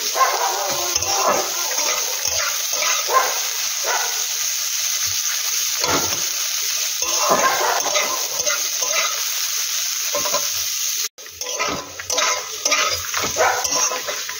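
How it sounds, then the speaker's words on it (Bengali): Chopped onions frying in oil tempered with dried red chillies and bay leaves, a continuous sizzle with a spatula scraping and stirring against the pan in irregular bursts, close up, with a brief dropout near the end. "ফোড়নটা হয়ে যাবার পর এতে আমি কেটে রাখা পেঁয়াজের কুচোগুলো দিয়ে দিলাম, দিয়ে এটাকে ভালোভাবে নাড়তে হবে।"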